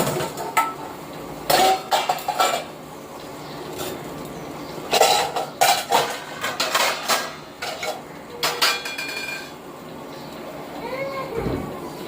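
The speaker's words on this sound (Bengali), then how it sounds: "বাসন ধুয়ে নিলাম।" Dishes washed by hand, with pots and utensils clattering in bursts of loud, close clanks and scrapes, while brief voices and a cough are heard between them.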